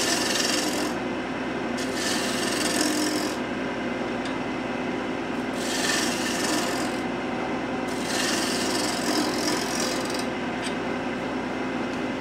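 Cherry wood turning on a lathe for a teapot, a continuous close scraping rasp of the tool on the spinning blank, swelling and easing in repeated passes with no talk.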